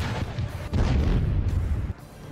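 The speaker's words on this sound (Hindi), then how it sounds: "इस तोप के सामने जो भी टारगेट आता है वो इसके एक ही गोले से तबाह हो जाता है।" Russian artillery cannon firing, a heavy booming blast followed by a long rolling rumble, loud and alone with no talk.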